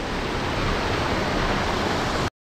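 A waterfall beside a mountain trekking trail on the way to Rudranath, a dense, steady roar of falling water heard up close and alone, cutting off abruptly.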